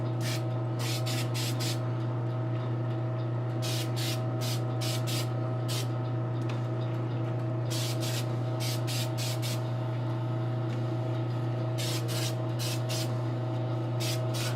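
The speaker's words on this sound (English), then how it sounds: "Just gonna spray her down." Repeated short bursts of an airbrush or spray can misting clear top coat T125 onto an anime model kit, several hissing sprays in clusters over a steady hum of a spray booth fan, no talking.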